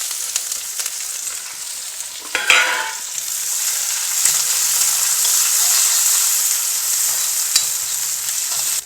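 Small onions sizzle and crackle steadily in hot peanut oil, with a sharper clatter of stirring near the start and a continuous bright frying hiss throughout.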